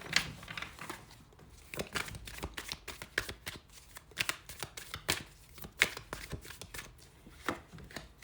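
Tarot-style divination cards shuffled by hand in a steady run of crisp, papery riffles and soft slaps, close and fairly quiet, with no voices over the sound.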